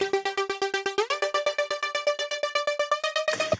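A synth lead in a melodic techno track, chopped into a fast, even pulsing rhythm by tremolo, with a bright harmonic tone that steps up in pitch after the first second and plays alone.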